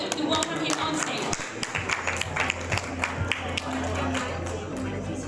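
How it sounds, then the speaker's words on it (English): An audience claps steadily at a corporate insurance-industry event, welcoming a speaker onto the stage with a sustained burst of applause. "Let us give Ranjit a big round of applause to welcome him on stage."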